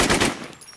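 Automatic M4 rifle fire in the online survival shooter The Infestation, a quick rattling burst of shots loud at the start, then tailing off into a fading echo.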